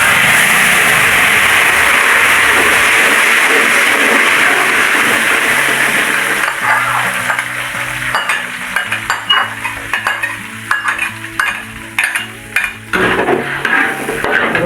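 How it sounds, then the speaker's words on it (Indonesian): Chili peppers fry in a pan with hot oil, a steady loud sizzle at first, then a spatula scrapes and stirs with repeated metallic clinks against the pan. "Sekarang cabenya kita goreng"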